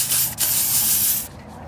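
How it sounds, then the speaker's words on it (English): Surface spray shoots from an aerosol can onto a gate's electrics in one short, steady hiss of about a second, with a brief break near the start, then it stops. "So first I'm gonna hit it with some surface spray, kill off those bugs, just lightly."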